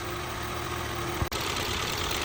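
An Audi A3 engine that burns oil and runs noisily, idling with a steady low droning hum and faint ticking, close and even, with one brief click partway through and no talking.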